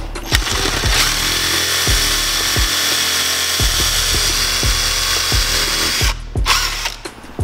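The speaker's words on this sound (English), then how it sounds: "now we got our holes drilled" A power drill bores holes while retrofitting a projector, whining loudly and almost without a break, with repeated low thumps and brief dips as the bit catches and pushes through.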